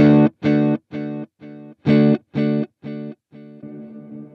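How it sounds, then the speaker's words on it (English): Repeated guitar notes through an EarthQuaker Devices Avalanche Run pedal's straightforward delay mode, each note echoed in a steady rhythm that gradually fades away, played alone with no talking. "There's just straightforward forward delay."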